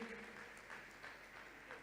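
An audience applauds a professor with brief, faint clapping under a voice speaking.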